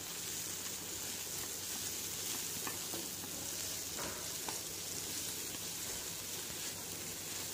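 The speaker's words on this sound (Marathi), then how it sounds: "थोडंसं मऊ होईल इतकंच आपण हे फ्राय करून घेणार आहोत" Carrot, tomato, cabbage and chili vegetables frying in a pan hiss as a steady, faint sizzle with occasional soft stirring clicks, continuous throughout with no talk.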